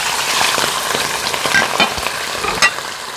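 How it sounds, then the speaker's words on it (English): Chicken frying in hot oil in a wok, a steady close sizzle with occasional pops and a stir. "You want to get the chicken so that it's just frying in there."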